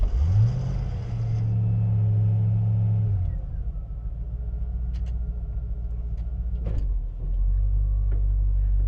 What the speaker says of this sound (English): So this is my first ride in a 40 Ford.